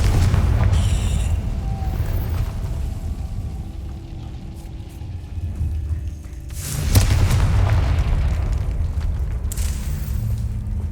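Confringo fire spell explosion in the wizarding game Hogwarts Legacy, a deep rumbling boom that swells and rolls on amid a dense low roar, loud and near with no talk.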